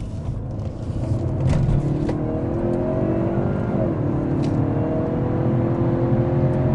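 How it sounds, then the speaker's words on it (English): The 2-liter four-cylinder EcoBoost in a 2017 Lincoln MKZ 2.0T accelerates hard, heard from inside the cabin as a steady engine drone that climbs in pitch, shifts once and climbs again, with no talking. "let's just see how the acceleration is on this EcoBoost engine. 2-liter 4-cylinder."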